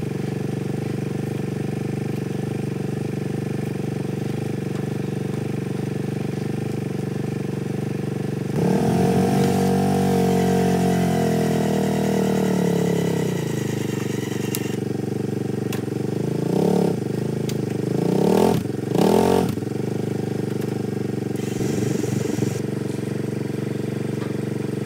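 A side-by-side utility vehicle's engine runs steadily at idle nearby, then revs and labors under load while its winch pulls, with the pitch rising and falling in several short surges.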